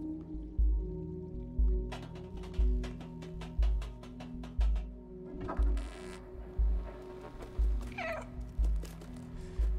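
A cat meows once or twice in the video game Stray, a short rising cry late in the passage, over a steady rhythmic thumping beat and low ambient game sound.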